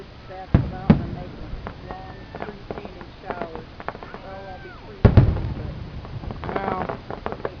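Fireworks go off at a Murray, Kentucky fireworks show, with two sharp near bursts early and another around the middle, and crackling in between, heard under people chatting and reacting.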